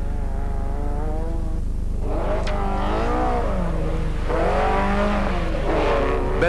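Rally cars, a Ford and a BMW M3, sweep through two consecutive right-angle bends with a steady loud engine drone and rising, falling revs as they accelerate and brake, no talk.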